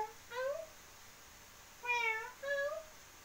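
A voice imitates a cat, giving three short, high meows, the last two in quick succession, in a quiet room.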